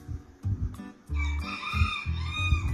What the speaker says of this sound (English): Don't mind the chicken at the background.